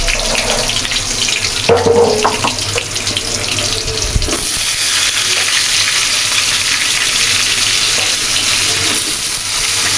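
Potatoes frying in oil seasoned with salt and turmeric, a steady close hiss and sizzle with faint stirring and clatter, a brief louder rattle near the middle, no talking.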